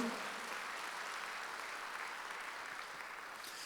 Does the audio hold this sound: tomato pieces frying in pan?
no